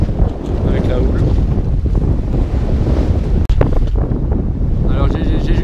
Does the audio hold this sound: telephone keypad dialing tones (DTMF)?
no